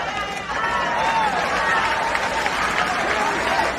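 A crowd at a political speech applauds, with dense clapping and scattered cheers at moderate volume, while voices can be heard through the noise.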